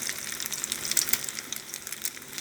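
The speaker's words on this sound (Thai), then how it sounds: "พอน้ำมันร้อนแล้ว เราก็เทไข่ลงไป" Beaten eggs poured into hot oil for a Thai omelette with cha-om, crackling and sizzling steadily at close range with bright spitting bursts and no one talking.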